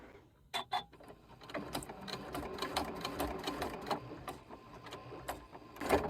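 A sewing machine stitches back and forth through cross stitch fabric, running in short, slow bursts of rapid mechanical clatter with small pauses between them, heard up close.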